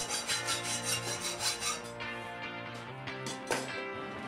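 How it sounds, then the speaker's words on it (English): Steel bar being cut down by hand to make hooks for a loft ladder, a loud rhythmic rasping stroke repeated about six times, then slower scraping strokes with a sharp metallic scrape near the end. "I'm cutting some steel bar down to make these hooks."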